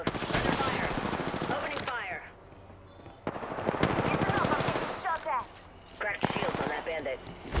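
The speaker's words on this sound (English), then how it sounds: "Under fire. Opening fire." Gunfire in the battle royale shooter Apex Legends, rapid bursts of weapon fire heard in short clusters under almost continuous talk and game voice callouts.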